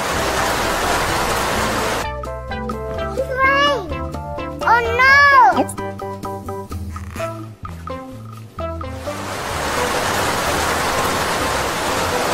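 Steady rain patters throughout, briefly overlaid by a burst of tonal music or chiming sounds in the middle before the rainfall continues alone.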